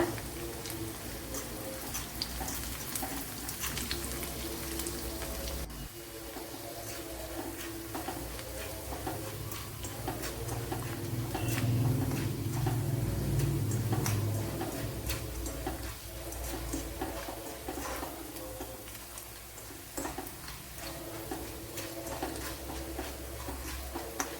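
Ingredients for a Kerala-style beetroot dish roast and sizzle in a hot pan, a steady crackling hiss with soft ticking pops and occasional stirring scrapes that swells midway, with no talk.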